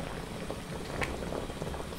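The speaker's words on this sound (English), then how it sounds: "Finally, the water is boiling." Water boils in a pot for cooking bossam, a soft continuous bubbling and popping at close range, fairly quiet and steady with no voices.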